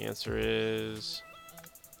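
A house cat meows loudly in a single drawn-out, rising then falling yowl while upset, close to the microphone, followed by someone talking.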